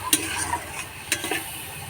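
Ginger and green chilli paste, with spices and a splash of water, is stirred in a pan for vegetarian ghugni, a couple of quick scraping spoon strokes over a soft, low sizzle, close and without speech.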